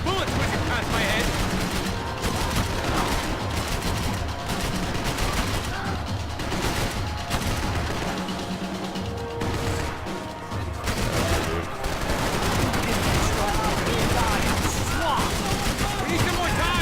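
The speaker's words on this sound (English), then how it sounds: "I can't concentrate with bullets whizzing past my head." Heavy, continuous gunfire rattles through a Max Payne 3 firefight on hard difficulty, with bullets whizzing past amid constant shots and crashes while voices speak over the din.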